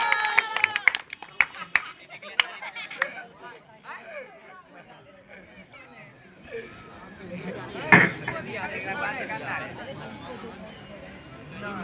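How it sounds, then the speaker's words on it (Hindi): A short burst of clapping at the start of a school farewell ceremony fades into scattered claps, then a crowd murmurs and chatters with voices speaking over the hubbub. "एक बार जोरदार तालियां"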